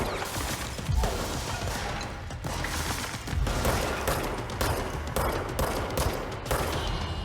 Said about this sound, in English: This gun does not have very good range, does it?